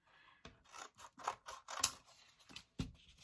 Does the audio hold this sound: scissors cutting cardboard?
yes